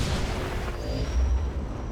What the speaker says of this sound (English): Wow, that is a huge cannon, Rick.